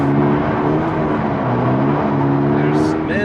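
A 2022 Subaru BRZ (Toyota 86) revs hard under heavy throttle on a snowy winter road, its engine note climbing and holding loudly and close, with speech over it.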